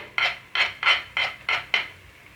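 A spoon scrapes through a thick tomato mixture in a pan as coriander powder, red chilli powder, turmeric and salt are stirred in for tomato rice: six even, close stirring strokes, one roughly every third of a second.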